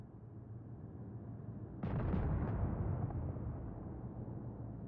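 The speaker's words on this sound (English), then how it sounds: "Enemy battleship sunk." A battleship blows up in a naval combat video game, a sudden muffled boom that swells over steady background rumble and then fades slowly.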